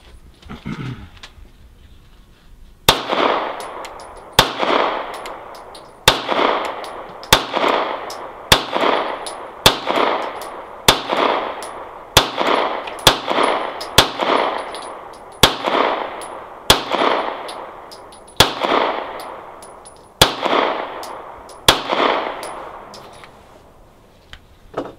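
A Sphinx 9mm SDP Compact pistol fires about twenty sharp, loud shots in a steady, evenly spaced string, each crack followed by a short ringing decay, with no talking over them.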